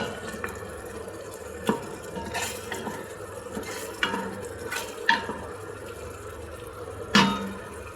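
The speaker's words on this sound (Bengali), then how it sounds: "আমি এর ভিতরেই বিরিয়ানির চালটা দিয়ে দিব।" Biryani rice added to boiled chicken in a pot and stirred, with soft wet scraping and grainy shuffling under a low cooking hiss, plus several sharp utensil knocks and clinks.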